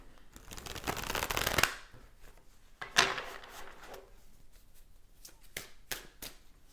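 Tarot cards being shuffled by hand in a couple of bursts, a dense riffling rush followed by a shorter flurry and then scattered card taps, close and fairly loud with no talking.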